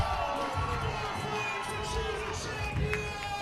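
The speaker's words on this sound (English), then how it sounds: "So the crowd is excited" Excited crowd cheering and shouting erupts as a disc-game match heads into overtime, a steady roar of many voices with scattered whoops and louder bursts throughout.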